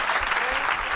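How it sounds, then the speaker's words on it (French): A church congregation applauding and cheering, a dense wash of clapping from a large crowd filling the space with steady loudness, voices mixed into the noise. "Quelqu'un acclame le Seigneur."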